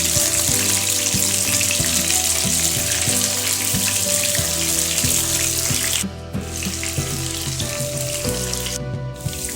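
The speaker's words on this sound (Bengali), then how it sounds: "কাবাবগুলো পুরো ভাজা হয়ে গেছে," Mutton stick kebabs frying in oil in a pan, a loud, steady sizzle with crackling that runs throughout, a brief dip midway, and no talking.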